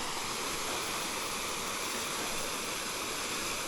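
A small waterfall pours into a pool on a small trout stream, a steady, even rushing hiss with no pauses and no voices.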